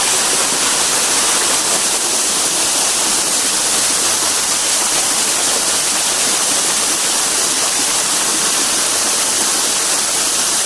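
A high waterfall by a river on a farm roars nearby, a loud, dense, unbroken rush of falling water filling the whole stretch without pause.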